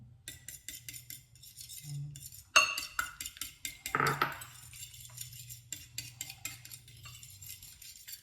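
Eggs being beaten in a bowl with a utensil, a quick rapid clinking rhythm against the bowl broken by a couple of louder knocks, close and quiet with no talking.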